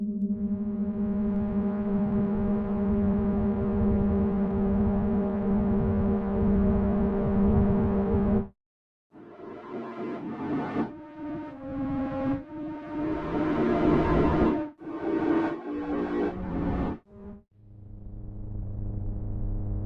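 An 8Dio Soundpaint software instrument morphing between sounds: a sustained droning tone cuts off, then shifting, warbling synthetic textures swell and change pitch before settling into a lower, steadier tone, with no talking.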